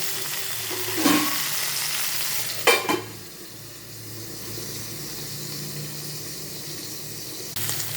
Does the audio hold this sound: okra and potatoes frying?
yes